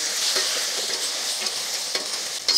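Stir-fried Chinese-style vegetables with green chillies sizzle sharply in a hot pan as a premixed sauce goes in, giving a bright steady hiss with a few short crackling bursts near the end.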